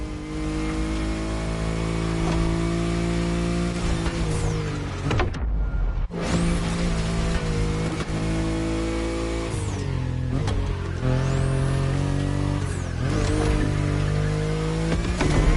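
A BMW i8 sports car in a video game drives with a loud, steady engine note that rises and falls as it revs, with a brief cut near the middle.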